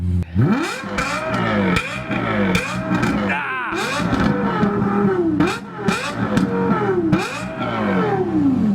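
A Lexus LFA's 4.8-liter V10 and a 5.5-liter V8 sports car rev loudly and closely in repeated rising-and-falling sweeps, with short gaps between bursts and some voice audible underneath.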